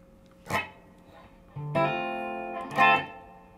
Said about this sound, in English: See if that reverb's working